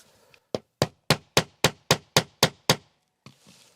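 Hammer blows drive into wooden cabin siding, nine sharp, evenly spaced strikes in a steady rhythm, close and loud, with a brief quiet before and faint rustling after.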